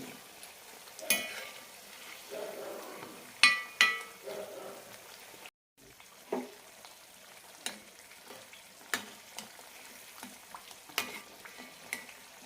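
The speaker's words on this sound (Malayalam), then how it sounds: "നല്ല ഗോൾഡൻ ആകുന്നവരെ വറുത്തെടുക്കണം" Chirota snacks deep-frying in hot oil until golden, a steady crackling sizzle with occasional stirring clinks and scrapes close by, no talking.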